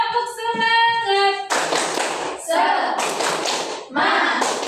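A school class performs a rhythmic clapping chant, with voices chanting together in short phrases that alternate with loud bursts of group hand claps in a steady pattern.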